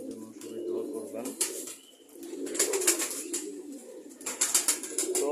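Domestic pigeons kept as pets coo in a low, rolling series close by, with brief pauses between bursts and some higher rustling and bird calls mixed in.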